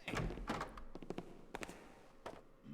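A door opens in the stealth video game Thief 2, producing several soft, close thunks and clattering knocks spread over a few seconds at low volume, with no talk.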